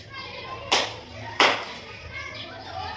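Schoolchildren play a classroom number game in which they show digits by clapping and snapping. Two sharp, distinct claps ring out about a second apart over murmuring children's voices and talk.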